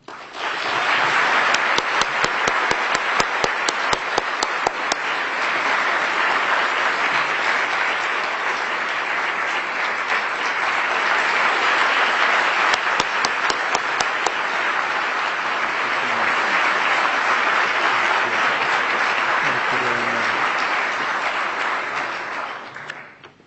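A large audience applauds to welcome His Highness the Aga Khan at a formal address, producing steady, dense clapping that holds at full strength for over twenty seconds before fading at the very end.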